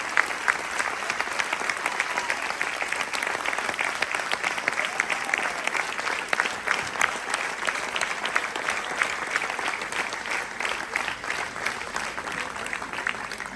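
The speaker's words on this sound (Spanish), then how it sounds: "este aplauso merecido" Audience applause at a pastoral conference gathering, dense sustained clapping from a full hall that continues evenly for many seconds.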